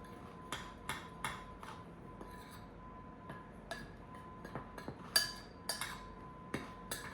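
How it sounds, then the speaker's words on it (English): Pumpkin bread batter for a cream cheese swirl loaf being stirred in a bowl: scattered clinks and taps of a utensil against the bowl come at an irregular pace, close and fairly quiet. "I'm gonna stir that in here now"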